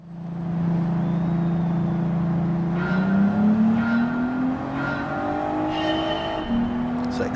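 A four-wheel-drive race car in Gran Turismo 7 during a national B licence test, its engine droning and rising in pitch through the gears under acceleration, then easing off for braking and downshifting before picking up again.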